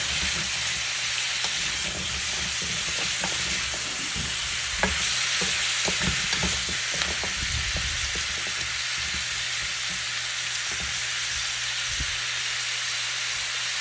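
Squash, green beans and shrimp get stirred in a pan in coconut milk, a steady sizzle and hiss broken by repeated scraping, clacking stirs close by, with no talking.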